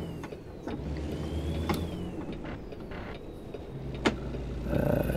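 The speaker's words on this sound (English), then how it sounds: "Truck over revving." A heavy truck's engine over-revs in American Truck Simulator. A low mechanical rumble runs throughout, with a faint rising whine and a few sharp clicks and knocks.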